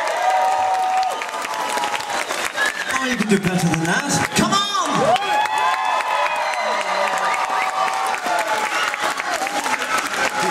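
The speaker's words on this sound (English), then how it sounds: "all that we ask of you, is that you simply put those hands together and clap along" Concert crowd at a tribute show in Burbank applauding and clapping along, a dense, steady wash of hands with cheers throughout, while a performer on stage speaks over it.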